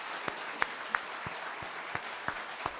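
A church congregation at an early-morning special prayer service claps in praise, a few sharp claps ringing out at uneven intervals over a soft, steady room hum.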